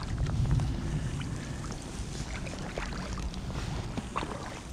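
Kayak paddling on open water during a wild camping trip, with steady water splashes and boat noise under a continuous wash of wind buffeting the microphone, nearby and moderately loud.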